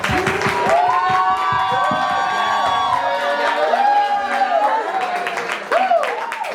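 Talk show audience cheering and clapping for guests: whoops, shouts and excited voices rise over a patter of applause, loud and lively, with some calls and speech mixed in.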